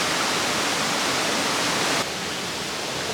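Waterfall at Monte Gelato roaring as a steady, loud broadband wash of falling water, alone with no voices, dropping slightly in level about two-thirds through.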